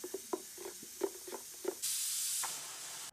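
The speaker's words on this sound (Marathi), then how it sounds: "आणि कुकरला पण शिट्ट्या होत आहेत" A pressure cooker cooking mutton, with a few soft knocks and clicks followed by a loud, steady burst of steam whistle hiss that lasts under a second and then fades.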